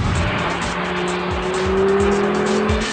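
A car engine revs hard through its gears in sport mode, rising in pitch and dropping back at each paddle-shifted upshift, with several quick shift cuts over a steady loud drone.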